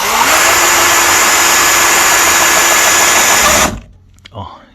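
A small high-pitched drill with a roughly 1 mm bit whines steadily and close for a few seconds, then stops abruptly, leaving a brief faint sound afterward, drilling a small hole in a car wheel rim.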